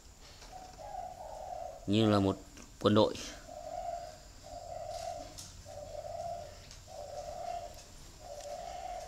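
Caged spotted doves coo steadily in a run of repeated, even phrases at moderate distance, while someone speaks briefly over the start.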